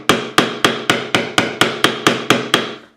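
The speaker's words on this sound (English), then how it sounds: "I'll take the hammer, bang it back on there" A hammer taps a fret into the neck of a Squier Affinity Stratocaster with ten crisp, evenly spaced strikes, each ringing briefly. The sound is close and loud, with no talking.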